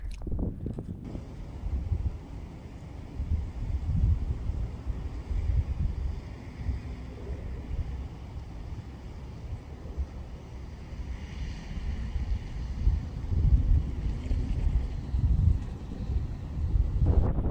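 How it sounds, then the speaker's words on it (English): Strong wind buffets the microphone at a lake on a very windy day, a steady roaring rush with gusts that swell and ease, loud and alone with no voices. "It was a crazy windy day."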